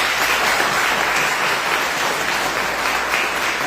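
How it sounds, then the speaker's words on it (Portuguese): Steady, dense applause from a church congregation, a continuous close wash of many hands clapping with no voices standing out. "vamos aplaudir esse jovem"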